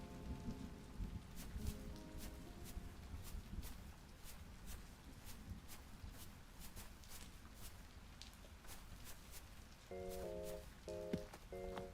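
Rain falls in the Travellers Rest video game as a steady, soft patter with scattered drip-like ticks, while brief tonal music notes sound at the start and again near the end.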